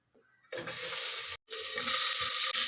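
Steady, loud sizzling of food frying in ghee for vegetable dum biryani, starting abruptly and continuing with a brief break, the hiss bright and close.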